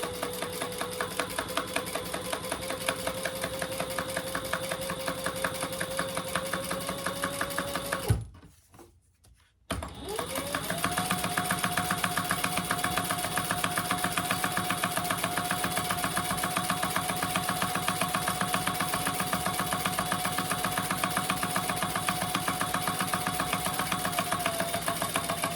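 A sewing machine top stitching a shoulder bag runs in a fast, steady whirr, pauses briefly for a couple of seconds, then resumes its continuous stitching at the same close, even pace.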